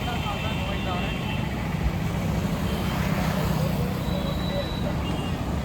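Steady outdoor traffic noise from passing cars and trucks, picked up through a Boult Fluid X Bluetooth headphone microphone with ENC, a continuous low rumble and hiss with no clear individual passes.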